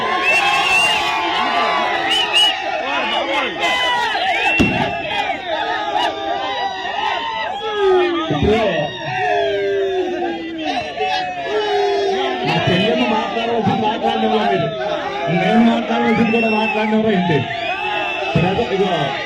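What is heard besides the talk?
crowd cheering and shouting at political rally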